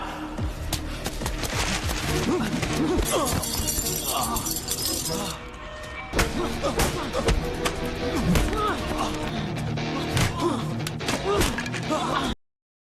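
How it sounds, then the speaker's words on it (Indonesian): Glass windows smashed on the 54th floor during an Indian action film fight scene with a crane: repeated crashing, shattering and thudding impacts over music and effects, with a brief drop in the middle. "Ia menghancurkan semua kaca yang ada di lantai 54 itu"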